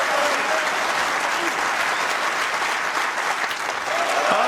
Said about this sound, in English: what a reception Ronnie O'Sullivan gets from this Crucible crowd